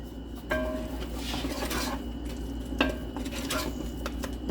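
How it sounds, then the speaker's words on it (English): A spoon stirring a thick, pasty seasoned crawfish pie filling in a pot, a few close scrapes and knocks of metal against the pot over a low background hum, brief and without talk. "Going to give that a stir."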